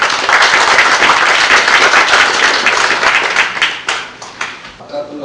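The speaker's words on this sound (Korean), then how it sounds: "큰 박수로 모시겠습니다" An audience at a book launch event applauds loudly to welcome a lecturer, dense clapping that holds strong, then thins into scattered individual claps near the end.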